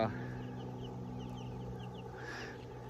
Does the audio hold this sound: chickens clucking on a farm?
yes